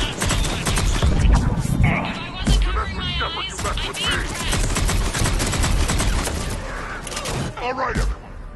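Gunfire in Mass Effect 3, rapid bursts of shots and heavy thuds crackling loudly and almost continuously, mixed with voices talking over the combat.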